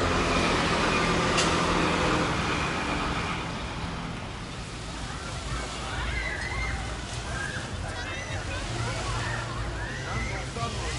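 Calm sea gently lapping at a beach in Alanya, Turkey, at sunset, soft steady washing of small waves with faint distant background noise and no talk.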